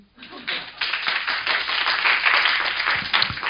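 A lecture audience breaks into clapping, starting faintly and swelling into a full, steady round of applause that carries to the end, with a voice briefly audible.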